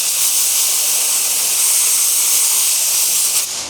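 Compressed air blasts steadily off brake parts during a pad and rotor job, a loud continuous hiss running nearly four seconds before easing off at the end.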